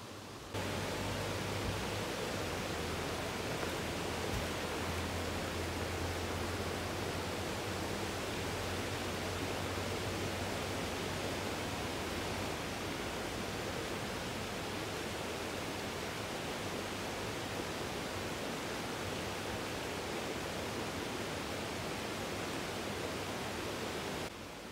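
A river flows in a steady, dense rush of water that holds constant for the whole stretch with no pauses. No birdsong stands out above the water.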